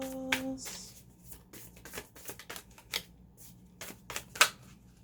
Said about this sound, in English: I'm having a very hard time shuffling.